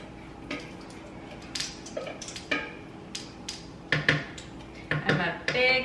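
A can of fire-roasted diced green chilies goes into a pot in a home kitchen, with metallic clanks and knocks of can and pot, soft wet plops and scattered utensil clatter, loud close hits late on.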